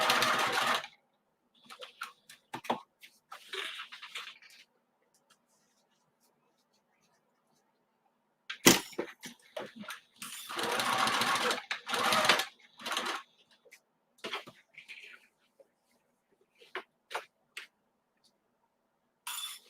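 A sewing machine stitches a mini messenger bag in short, intermittent bursts of rapid whirring, separated by quiet pauses and soft handling noises.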